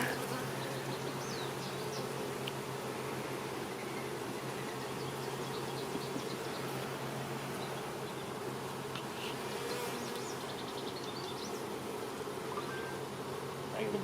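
Honey bees buzz around an open, active beehive in a steady, dense hum that carries throughout, with individual bees droning in close at moments.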